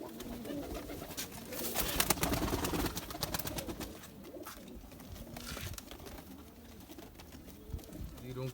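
Home-bred Zeera pigeons give low, soft coos that recur through a steady, noisy background, with a louder busy stretch early on and a faint voice now and then.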